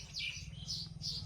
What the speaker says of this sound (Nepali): कति राम्रो चराचुरुङ्गीहरूको आवाज है